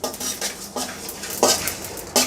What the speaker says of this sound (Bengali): এখন আমি একটি কড়াইতে সব মশলাগুলো দিয়ে দিব, দিয়ে ভেজে নিব মশলাগুলোকে।